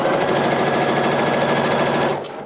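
A domestic sewing machine stitching a seam on a top or dress, a loud, close, steady rapid whirring drone that runs evenly and then tapers off as the stitching stops.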